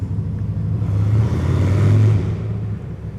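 A Honda Shadow 750 Aero motorcycle's deep, booming exhaust rumble swells and fades, echoing heavily inside a concrete parking garage.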